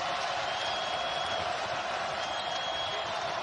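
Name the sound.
basketball arena crowd cheering for Florida State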